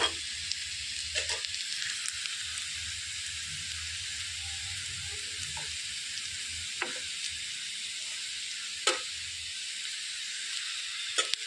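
Stuffed bitter gourd fries in an oiled pan with onions and curry leaves, giving a continuous, even hiss of sizzling oil marked by a few soft clicks and taps from stirring.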